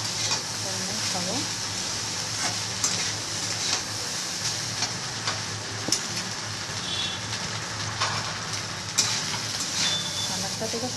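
Cooked rice is stir-fried without ghee in a wok, giving a continuous sizzle with scraping stirs and occasional clinks of the spatula against the pan, while a voice talks over the cooking.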